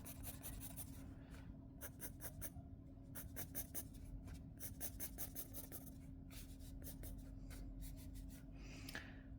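Pencil strokes on paper while drawing a cube: close, quiet scratching in quick rhythmic bursts of short strokes with brief pauses, over a steady low hum.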